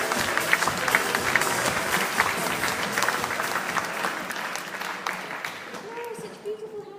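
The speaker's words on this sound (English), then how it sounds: "There we go, a round of applause, Hetty Bell." Audience at an awards ceremony applauds warmly, dense clapping holding steady before tapering off toward the end, with a few voices and cheers mixed into the crowd.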